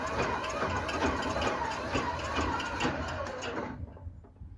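The Continental engine from an M47 Patton military tank cranks with a rough, rhythmic mechanical churning that never catches, then stops abruptly near the end and leaves a quieter tail.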